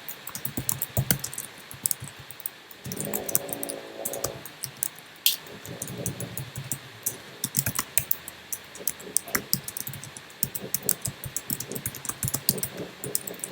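Steady typing on a computer keyboard, with rapid uneven key clicks close by, bursts and pauses in between, and no voices.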